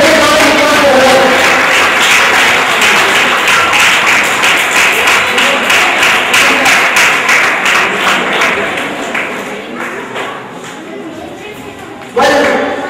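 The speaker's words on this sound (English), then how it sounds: "Can I have a big round of applause for her?" Audience applause for an award winner at a school awards ceremony, a loud, dense burst of clapping that slowly thins and fades, then picks up briefly again near the end.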